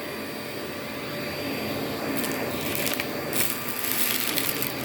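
A vacuum cleaner roars steadily at close range while sucking up spilled beans and lentils on a living-room floor, with brief rattling bursts as hard grains get pulled in; nobody talks.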